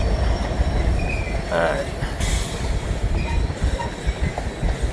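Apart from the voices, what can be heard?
freight grain train rolling onto a bridge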